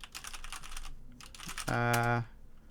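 Rapid clicking of a computer keyboard during live-streaming setup, a quick burst of keystrokes rising from a quiet background, close and distinct for about half a second after faint earlier taps.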